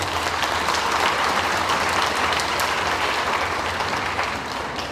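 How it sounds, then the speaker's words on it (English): A crowd at a county fair royalty contest gives a sustained round of applause for the sponsors, a thick, even wash of clapping that holds steady and eases slightly toward the end. "So let's give them a big round of applause."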